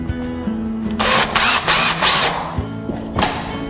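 Power drill driving a 5/8 inch screw into the corner of a tilt-away Murphy wallbed, in several loud whirring bursts with short pauses between them.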